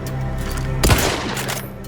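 A repeater rifle fires a single loud, sharp shot in The Outer Worlds 2, a crack with a short ringing tail, sounding over steady game ambience.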